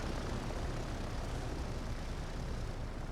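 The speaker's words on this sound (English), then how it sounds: "You actually see them making a turn and coming in for the carrier. That's the Devastators coming home." Devastator and Dauntless carrier planes flying home in the WWII naval strategy game Victory at Sea Pacific, a steady, dense propeller-engine drone that holds at an even level throughout with no voices.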